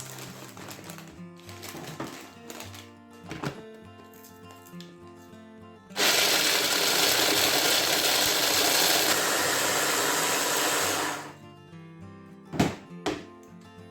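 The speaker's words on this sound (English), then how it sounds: "we're going to blend up our Cheetos. So in you go with that, into a food processor." Food processor grinding Cheetos into crumbs, a loud, dense whirring burst lasting about five seconds between softer handling knocks and thuds nearby.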